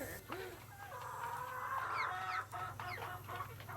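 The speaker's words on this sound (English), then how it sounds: "Look at all of those chickens." Chickens cluck and squawk in a farmyard scene of a Nancy Drew ranch adventure game, several birds overlapping in a busy, continuous flock chatter with a steady low hum underneath.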